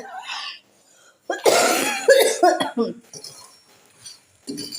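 Cough from a cold, heard as a burst of harsh, close coughs in the middle of the stretch, with softer sounds and brief quieter noises before and after in a home kitchen.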